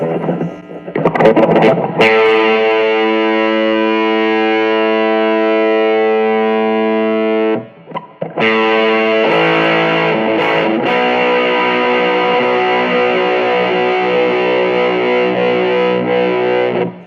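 A loud, heavily distorted electric guitar plays through Angry Hornet and Surfy Fuzz effects pedals, sustained fuzzy notes and chords, with brief bursts of picking and a short break in the middle.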